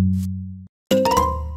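A doorbell in a Minecraft nursery map chimes as two synthetic tones, a low steady tone, a brief gap, then a brighter ringing tone with sparkly overtones, loud and close with no talking.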